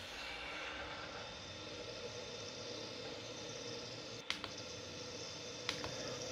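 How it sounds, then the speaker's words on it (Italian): Junkers Ju 52 trimotor airliner in a flight video game, a steady, loud engine drone holding evenly throughout the takeoff run, with a couple of brief clicks partway through. "Lento, parte molto lento, però decolla immediatamente."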